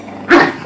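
A small dog growls briefly and loudly close by, a short rough snarl that tails off into a low rumble.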